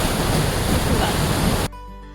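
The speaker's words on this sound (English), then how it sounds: "I can see this amazing waterfall" Waterfall on the Drift Creek Falls Trail in Oregon's Siuslaw National Forest, heard from a suspension bridge as a loud, broad rushing roar that cuts off abruptly near the end, leaving faint low hum.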